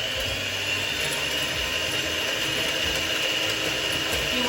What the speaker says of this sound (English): Using an electric whisk, place your electric whisk into your bowl and then slowly start on slow speed.